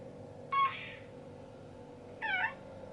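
Two short, high chirpy baby-like coos from an electronic Build-A-Bear toy of The Child, spaced apart over a faint steady hum.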